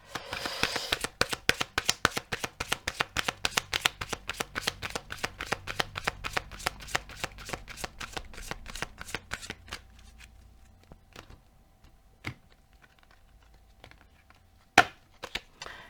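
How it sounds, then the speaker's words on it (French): Tarot cards are shuffled in a long run of rapid, crisp riffling flicks, loud and close, thinning out into a few scattered single card snaps toward the end. "on va tirer 2 cartes supplémentaires"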